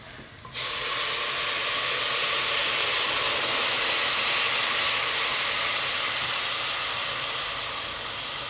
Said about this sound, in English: Put a couple of ladles in. You might want to stand back a little bit because you might get a flash of steam.